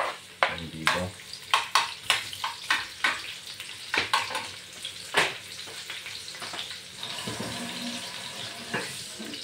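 Onions and chili sautéing in a pan, with a soft sizzle under repeated clanks and scrapes of a utensil stirring, irregular and close.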